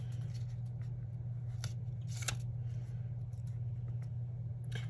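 Scissors snip through paper planner pieces in a few short, close cuts, with a low steady hum beneath and no talking.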